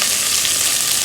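Khichdi fries loudly in a pan, a dense, steady hiss of sizzling oil close by, with no talking.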